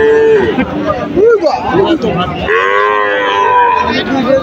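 Cattle at a crowded rural calf market, Chandaikona haat in Sirajganj, Bangladesh, muddy after rain, moo repeatedly and loudly up close, long drawn lowing calls overlapping amid a murmur of crowd chatter.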